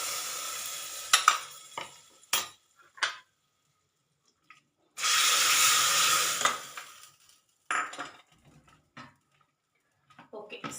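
Sambar being stirred in a pot, with intermittent scraping and clinking bursts and one longer sizzling, stirring stretch, separated by quiet gaps.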